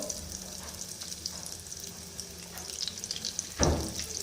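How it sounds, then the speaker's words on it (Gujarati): Steady hissing and crackling of spinach, cheese and corn balls deep frying in hot oil, with a brief louder clatter near the end. "આ જ રીતે તમારે તળવાના છે બધા જ"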